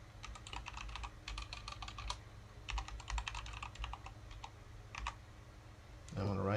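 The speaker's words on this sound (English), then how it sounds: "Actually, no, I'll type this one." Computer keyboard typing in bursts of quick clicking keystrokes with short pauses, fairly close and moderately loud, over a steady low room hum, ending with a brief louder rustle.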